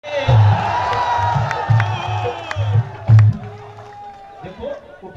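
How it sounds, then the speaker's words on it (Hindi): Crowd at a political rally cheering and clapping, with shouts and whoops rising over a loud amplified voice and the rumble of a large gathering. "ताली बजाइए।"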